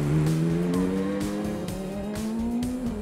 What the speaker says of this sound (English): He's in the car pounding around as we speak